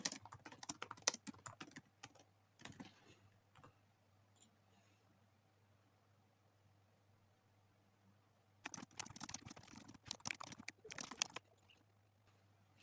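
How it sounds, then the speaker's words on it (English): Bursts of typing on a computer keyboard, rapid clustered keystrokes near and clear, with a long quiet pause in the middle before a second flurry of taps; no talking. "You type in what you want to learn."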